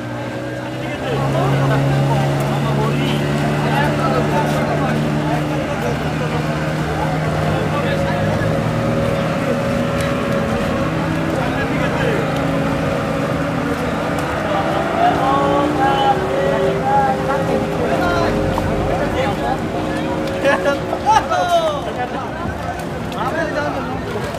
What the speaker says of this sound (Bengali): ইতিমধ্যে একটি স্পিড বোট ছেড়ে দিয়েছে।